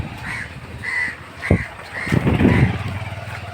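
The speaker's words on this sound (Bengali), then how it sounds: "বিভিন্ন কারণে কাক চিল্লাচিল্লি করে" A crow in a rural park in Rangpur gives about five loud, harsh caws at a regular pace, close by, with a brief rumble of passing traffic partway through.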